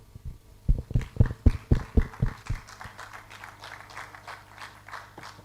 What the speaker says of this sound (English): Please jam your hands. A round of applause